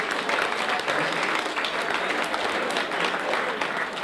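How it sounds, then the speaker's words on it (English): Steady, dense applause from an audience at a boxing night of champions in County Mayo, Ireland, holding at an even, fairly loud level throughout with no clear break. "So we give him a round of applause now"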